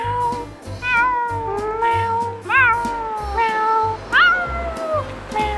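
A child imitates a cat, giving a string of drawn-out, rising and falling meows over a low background hum in a playground setting.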